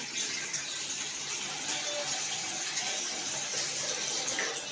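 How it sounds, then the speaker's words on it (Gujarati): A pot of water is poured into a cooking pan in a home kitchen, a steady, close gushing splash that holds evenly for several seconds with no talking. "જો તમારે શેરો બનાવતે એક કળશો નાખ્યું છે પાણી"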